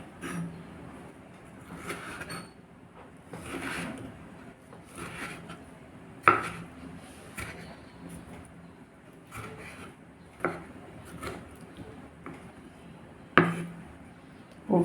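Tomatoes being diced into cubes on a cutting board for a paco fern salad, with a few sharp knife knocks and scraping sounds spaced irregularly amid soft kitchen handling noise.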